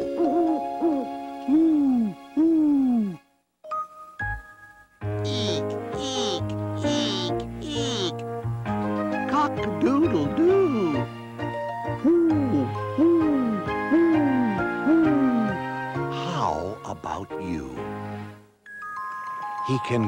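A voice imitates an owl, hooting in short rising-falling calls mixed with sung and musical tones, bright bell-like notes and playful accompaniment throughout.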